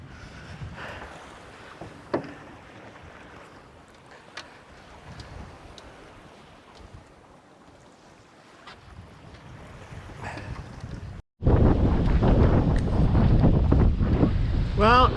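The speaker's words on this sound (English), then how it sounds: "Hopefully you can't hear too much wind noise, but it's pretty gnarly out here at the moment." Strong wind buffets the microphone on a small boat at sea off Selsey, with muffled low rumbling gusts that suddenly become a loud, constant roar in the last few seconds, with faint voices at times.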